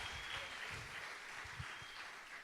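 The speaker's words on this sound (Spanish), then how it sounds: "Denle un aplauso a Jesucristo, porque Él es el Hijo del Dios Altísimo." Steady applause from a church congregation during a sermon, a continuous wash of clapping at moderate distance that holds throughout without voices on top.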